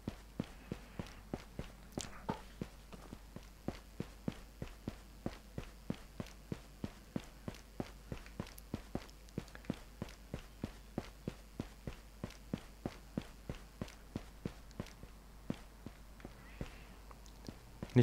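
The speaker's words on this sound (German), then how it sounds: "Die Schritte hört man gut von beiden." Footsteps walk at a steady, even pace in Ghosts of Tabor. Each step lands crisp and close, repeating with regular rhythm for the whole stretch against a quiet background.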